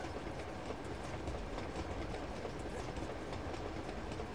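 A train rolls steadily through the game Uncharted 2: Among Thieves, with a continuous loud rumble and clickety-clack of wheels on rails, no pauses and no voices.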